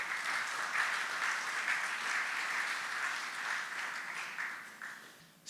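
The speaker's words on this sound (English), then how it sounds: "Would you give her a nice warm round of applause?" Warm round of applause from an audience at a tribute event, steady and sustained for several seconds before cutting off abruptly, with no voices over it.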